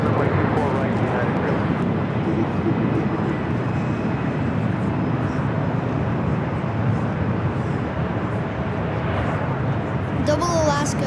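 Two Alaska Airlines Boeing 737 jets at LAX produce a continuous loud, broad jet roar that holds steady throughout, with radio-style voices talking over it.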